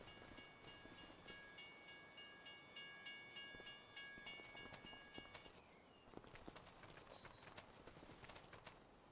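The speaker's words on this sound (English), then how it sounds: "Oh, there's the train way up there." A train in the Farming Simulator 25 video game, on the Village of Baraitaru map, runs with steady rhythmic clacking and sustained tones that fade after about five seconds, leaving quieter ambient noise.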